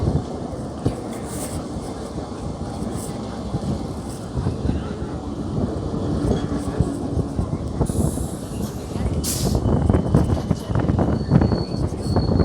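Sabarimala special train from Chennai to Kollam rolling along at speed, a steady loud rumble of wheels and carriage with occasional brief squeals and rattles, rising somewhat toward the end.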